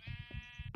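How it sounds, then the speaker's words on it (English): A Minecraft sheep bleats in a steady, buzzy tone for most of the moment, with soft low thumps of game footsteps underneath and a burst of noise at the end. "I need to snip my sheep, don't I?"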